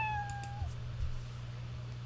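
A short cartoon cat meow from the Scratch programming game's cat sprite, a single clear falling tone heard once near the start over a steady low hum, then fading into quiet background noise.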